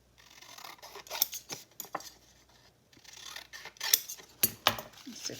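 Scissors snip and rustle through a junk mail envelope being trimmed into a pocket, in short uneven bursts of cutting and paper handling, with faint background hum.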